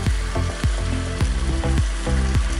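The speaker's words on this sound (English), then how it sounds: "the pheasant is sealed off, so we're just going to take it off the heat" Pheasant pieces searing in a hot pan for saag aloo give a steady, close sizzle and crackle with a loosely repeating spitting pattern and no talking.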